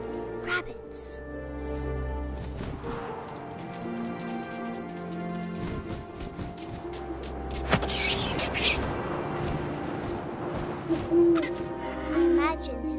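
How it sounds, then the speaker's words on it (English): An owl hoots in the video game What Remains of Edith Finch, soft and distant within a layered ambient bed of wind, music and rustling, with a voice narrating over it. "And suddenly, I was an owl."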